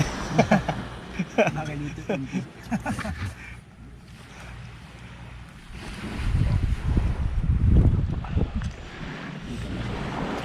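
Strong wind gusts roar and rumble against the microphone, building louder toward the end, with a voice speaking briefly at the start.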